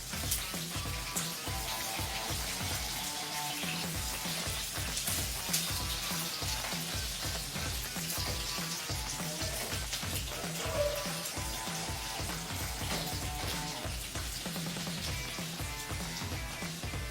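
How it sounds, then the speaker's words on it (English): Freshly chopped onions fry in a pan with a steady, dense sizzle that crackles continuously and stays fairly even throughout. "first we are going to add a few freshly chopped onions. And then let's fry it."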